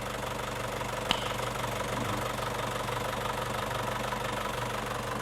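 An Isuzu Panther engine idles steadily nearby with a constant rumble and light rhythmic knocking, plus one brief click early on.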